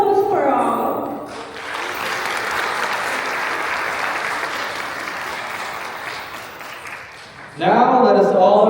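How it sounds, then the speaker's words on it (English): A crowd applauds steadily for several seconds at a Nepal Night event at SCSU, with a speaking voice just before and after the clapping. "Big round of applause for all."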